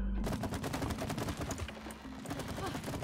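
Rapid automatic gunfire from a weapon in the video game It Takes Two, a dense, loud burst of repeated shots continuing steadily for a few seconds.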